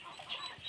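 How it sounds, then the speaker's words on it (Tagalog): Chickens clucking on a poultry farm, a short burst of soft overlapping clucks and calls from several birds nearby. "Daming mga manok."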